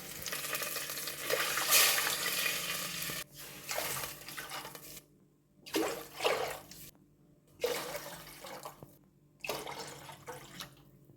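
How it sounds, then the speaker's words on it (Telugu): Water poured in several separate splashing pours into a cooking pot holding chicken with ginger-garlic paste and mint, ahead of adding rice; each pour is close and fairly loud, with short quiet gaps between. "ఇప్పుడు వాటర్ వేసుకుందాం."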